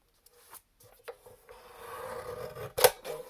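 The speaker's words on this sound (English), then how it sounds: "I'm going to cut this to 3 inches." Scissors cutting through watercolor paper, a few short snips and slides building into a longer rasping cut with a sharp crunch near the end, close and quiet with no voices.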